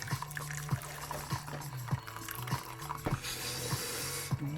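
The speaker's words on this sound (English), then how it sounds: "So let's get rid of this extra water." Hot water drains from a pot of Kool salted egg instant noodles into a container, a close, steady pour and trickle with faint splashing, no voices over it.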